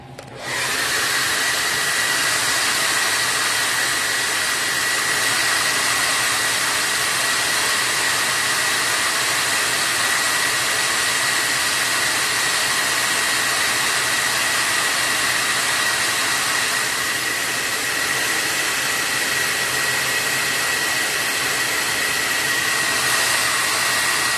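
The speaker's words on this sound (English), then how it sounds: "I'm going to have to hit this with a hair dryer" A hair dryer blows steadily and loudly for the whole stretch, a constant whooshing hum with a faint high whine, no voices.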